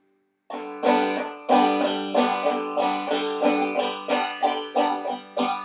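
Steady banjo frailing in a bright, close rhythm: a down-picked note, then a strummed brush, repeating evenly about once per second with no voices.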